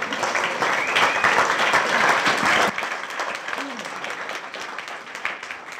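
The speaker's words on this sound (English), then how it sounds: "give yourself a round of applause" An audience at a tech community event applauds in a hall, dense clapping that holds loud for a few seconds, then thins and softens while continuing to the end.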